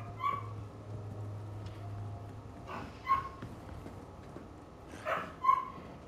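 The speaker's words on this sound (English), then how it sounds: "I can hear the dogs crying." Dogs whimpering and yelping in Resident Evil 4 Remake, a few faint, plaintive cries spaced through a low game ambience with a steady hum.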